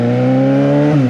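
Suzuki GSX 750 motorcycle with a straight pipe held at high revs, a loud steady droning engine note that wavers near the end as it cuts at the limiter, close and alone.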